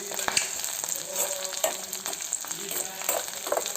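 Curry leaves and other ingredients frying in hot oil give a steady close crackling sizzle, with bursts of sharper popping and occasional stirring scrapes throughout.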